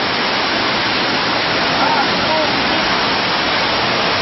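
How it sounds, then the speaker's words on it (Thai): A waterfall pours in a steady, dense rush of white noise, constant and close, with no breaks from start to finish. "ก็จะมาเจอกับ น้ำตก ไหลลงมาเป็น ทางน้ำนะครับ"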